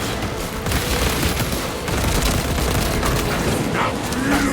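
Crack grenade explosion and sustained gunfire in Warhammer Space Marine 2, a loud continuous barrage of shots and blasts with no pauses, dense and close throughout.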